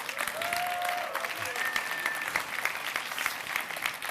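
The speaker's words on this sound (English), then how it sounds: "Give yourselves all a big round of applause." Audience applause at a European youth award gala, a sustained dense wash of clapping from a large crowd that holds steady throughout, with a faint thin tone hovering above it.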